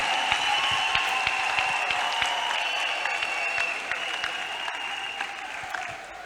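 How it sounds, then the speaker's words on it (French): A television audience applauds for the partners, steady dense clapping that continues for several seconds and slowly eases off, with a faint voice underneath. "Put your hands together for the partners."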